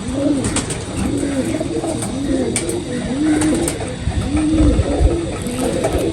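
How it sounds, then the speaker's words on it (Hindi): Soft pigeon coos repeat in a steady rhythm, low and rounded, over a murmuring background of distant noise. "ये बड़ा कबूतर है जी।"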